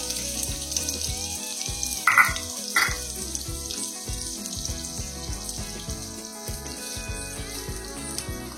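About twenty-five small onions fry in hot oil for suvarotti fry, a steady crackling sizzle under a humming background, with a couple of louder clattering bursts early on.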